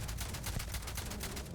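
Rapid gunfire aimed at a robot in Starfield rattles in a dense, continuous burst of closely spaced shots, loud and steady throughout with no voices.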